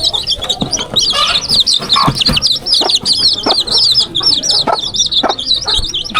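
Chickens cluck near a village coop, where chicks are kept penned against mongooses. Dense, rapid high chick peeping runs throughout, with lower hen clucks breaking in now and then, close and fairly loud.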